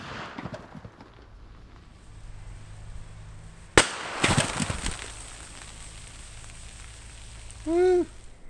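A single sharp crack from a Keltec PMR30 .22 WMR pistol shooting at soda cans cuts through quiet outdoor background, followed by a brief spray and fizz, then a short electronic beep near the end.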